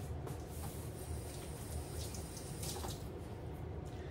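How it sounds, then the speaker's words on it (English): Tap water runs steadily into a sink as hands are washed in a home kitchen after baking a cake, a continuous splashing hiss with no talk over it. "I'm gonna wash my hands."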